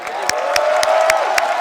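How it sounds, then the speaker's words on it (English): A crowd at an esports showmatch event applauds and cheers, a dense wash of clapping with a few sharper claps standing out, fairly loud and close. "Round of applause for Ian Chambers, folks."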